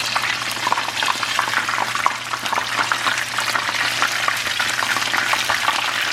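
Chicken for a chicken parmesan sandwich fries in a pan just after being turned over, a loud, close, continuous sizzle and crackle of hot oil with no talking.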